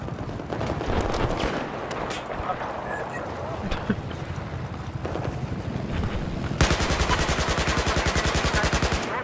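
Rapid automatic AK-12 rifle fire in the video game Battlefield 4, loud bursts over dense battle noise, ending in a sustained fast stream of shots, with players talking over it.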